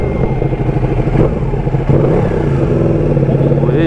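Loud, close motorcycle engine revs and climbs in pitch, rough and continuous, with a voice talking over it.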